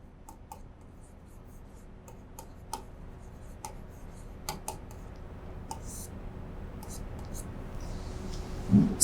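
Pen writing on paper or a board while working out a profit calculation: a run of scattered light ticks and scratches at a steady, unhurried pace, fairly close and quiet, with a soft murmur of room noise building toward the end.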